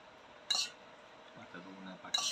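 Dal is served into a bowl: two brief, faint clinks of a utensil against the dish, spaced apart over a quiet kitchen background.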